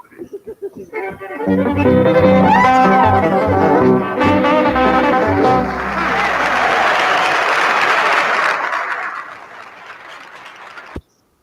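A live crowd bursts into sustained applause and cheering right after guitar playing, loud and close, swelling then fading to silence.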